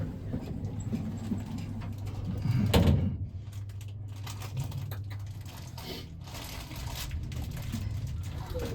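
Doors of a 1964 ASEA Graham elevator, modernised, in a Stockholm department store, slide shut with a short rumbling thud near the three-second mark, followed by quiet mechanical ticking and faint background murmur.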